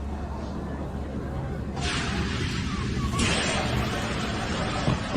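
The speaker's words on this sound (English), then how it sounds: "That's the slide deploying on door 1 left," An Airbus A319 escape slide deploys at door 1 left in a flight simulator game, a loud rushing hiss bursting in over a steady engine hum and lasting several seconds, with faint background babble.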